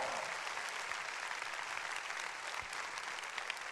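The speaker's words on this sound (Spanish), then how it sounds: "Un aplauso para todos estos colaboradores." Church members give a round of applause for volunteer helpers, a thick, unbroken roar of many clapping hands holding at a strong, even level from start to finish.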